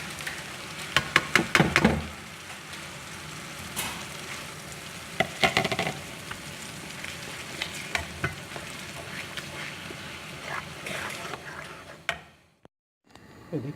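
Chopped onions and tomato paste sizzling in hot oil in a frying pan, a steady crackle broken by bursts of louder stirring and scraping, fading out near the end.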